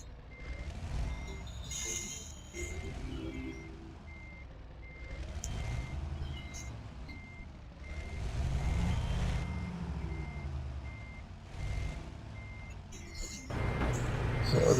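Steady electronic reversing beeps repeat throughout as a truck backs up a trailer in Euro Truck Simulator 2, over a constant low diesel engine rumble that swells and fades.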